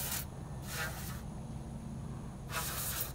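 Loud, close bursts of aerosol electrical cleaner hiss from a can, three separate sprays of under a second each, blasting dirt from hydraulic hose fitting threads on a Link Belt excavator stick cylinder, with a steady background rush between them.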